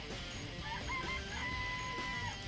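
Chickens in a coop cluck and call in the video game Danganronpa Trigger Happy Havoc, several drawn-out tonal squawks overlapping in quick succession over a soft background hum, with no talking.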